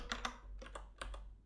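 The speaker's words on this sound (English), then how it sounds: "So, I'm having some keyboard difficulties." Quiet typing on a computer keyboard: short clusters of crisp key clicks in uneven bursts, close by and alone.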